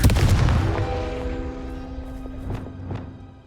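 A Confringo blasting spell from Hogwarts Legacy on PS5 explodes with a loud booming burst, followed by a decaying rumble and a few fainter pops.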